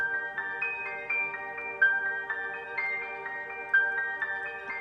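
Arpeggiated synth in FL Studio with a stereo effect, bright repeating plucked notes cycling in a quick steady pattern at moderate volume over a soft lower layer, no talking.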